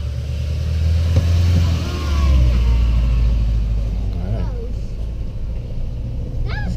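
A cart is driven along a campground loop road at Fort Wilderness, its motor humming steadily and swelling slightly as it speeds up, close by, with people talking over the ride.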